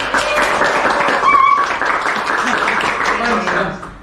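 A studio audience claps to welcome a guest on a campus radio podcast, a steady wash of close applause lasting several seconds while voices talk over it.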